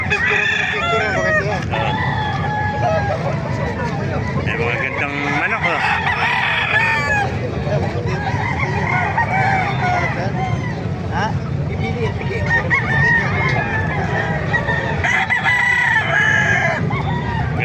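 Chickens cluck and a rooster crows amid a busy outdoor scene at a chicken market in Calumpit, Bulacan, with people talking nearby throughout.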